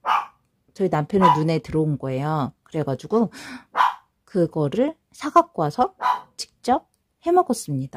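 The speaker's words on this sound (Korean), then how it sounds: "저희 강아지가 너무 시끄러워가지고" A Pomeranian dog gives several short, sharp barks scattered among steady conversational speech from a nearby person talking in Korean.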